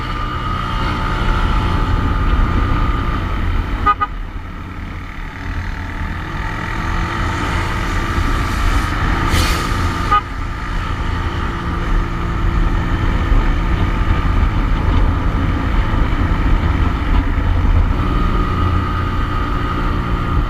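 A Honda ADV150 scooter engine in stock condition runs at a steady idle, a continuous low drone that holds close and even throughout with no voices.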